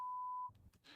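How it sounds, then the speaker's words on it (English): A steady reference beep from a field recorder sounds alone for about half a second, a clean continuous tone that cuts off abruptly into faint low rumble and quiet ambient noise. "This is a straight tone that I have at the beginning of all my recordings"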